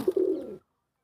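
A male pigeon gives a single short, low coo up close, lasting about half a second before silence.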